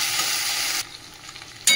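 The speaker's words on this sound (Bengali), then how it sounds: "চিংড়ি মাছটা ভাজা হয়ে যাবে, আলু পেঁয়াজ সবই ভাজা হয়ে যাবে" Prawns, potatoes and onions fry loudly in a pan, a dense close sizzle that suddenly drops to a quieter hiss, then bursts loud again at the end.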